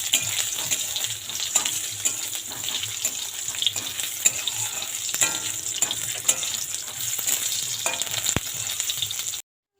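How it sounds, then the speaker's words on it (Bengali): Boiled potato frying in mustard oil in a wok, a steady bright sizzle running throughout with occasional faint clinks and stirring, close and fairly even in loudness. "দিয়ে আলুটা একটু ভেজে ভেজে নেব।"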